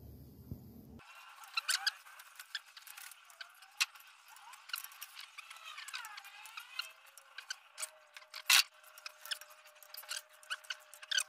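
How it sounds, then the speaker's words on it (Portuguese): A torque wrench set to 3 kg tightening cylinder head bolts on a Chevrolet Chevette engine, with scattered sharp clicks and light metallic rattles close by in a quiet space. "O torquímetro já está regulado em 3 kg."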